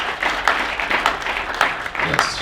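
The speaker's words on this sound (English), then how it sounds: "So let's give a round of applause for Mr. Dawson one more time for coming all the way" A crowd at a panel discussion applauds, with a fairly loud stream of overlapping claps and a few sharper individual hits standing out.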